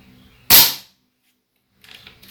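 A single sharp crack from an RTI Arms Prophet air rifle firing, loud and close, followed by silence and then faint rustling handling noise.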